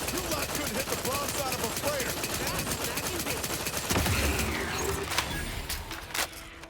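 Gunfire in Outer Worlds 2 while a heavily armored enemy soaks up rounds, sustained rapid shots and impacts in a loud, dense barrage, with a few short crackling bursts toward the end.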